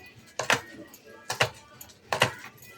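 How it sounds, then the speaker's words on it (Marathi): A knife chops green chilies finely on a board, three short clusters of crisp double taps at an even, unhurried pace, close and fairly quiet. "मिरचीचं देठ काढून धुवून अशी मिरची बारीक चिरून घ्यायची."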